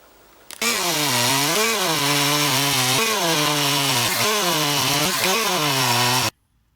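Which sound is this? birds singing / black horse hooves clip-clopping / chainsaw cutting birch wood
chainsaw cutting birch wood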